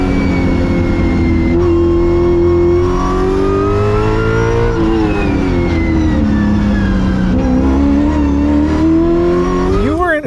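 700 hp Chevy C5 Z06 Corvette heard from inside the car, engine roaring loud and continuous, pitch climbing and dipping as it accelerates and shifts gears without lifting, rising sharply again at the end.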